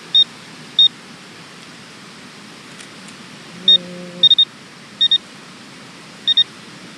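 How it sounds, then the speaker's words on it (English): A handheld metal detector reading a dime-sized coin target gives short sharp beeps, single and paired, spaced irregularly over steady outdoor background noise, with one brief lower tone partway through. "I'm getting a dime signal real clear."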